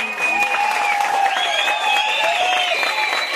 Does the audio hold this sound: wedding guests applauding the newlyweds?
yes